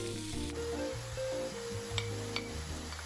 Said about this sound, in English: now you add the frozen spinach straight from the freezer and saute for another 2 minutes